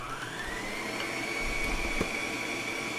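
An electric mixer beats cake batter briefly to blend in baking powder, giving a steady mid-level motor whine with a slowly shifting pitch, alone and close.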